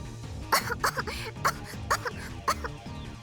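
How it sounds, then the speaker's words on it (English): A voice from the video game Steins;Gate gives several short, sharp coughs in a rapid irregular series over game music, fairly close and clear. "Farisu coughs, shaking wheat flour off her clothes and hair."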